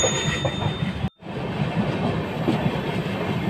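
A train runs at speed past Chandragiri station near Tirupati, a continuous loud rumble of wheels on track with steady clatter from inside the moving carriage, briefly dipping then resuming.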